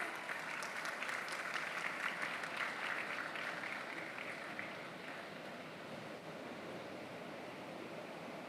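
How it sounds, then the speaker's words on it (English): Sustained audience applause fills a hall at an annual accountants' conference, a dense, steady wash of clapping with no voices over it, loudest at first and easing slightly toward the end. "A huge round of applause."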